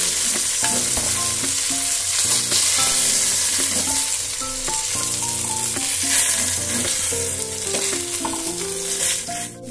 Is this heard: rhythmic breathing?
no